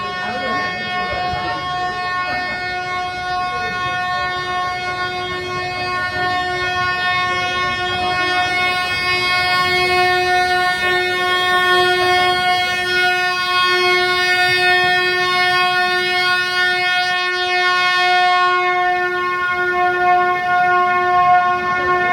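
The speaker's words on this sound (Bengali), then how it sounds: "চলুন ট্রেনটা একবার দেখিয়ে দিই আপনাদের" A Nilgiri mountain train standing at the Ooty station on the Coonoor route sounds a long, steady horn that holds for many seconds over background station murmur.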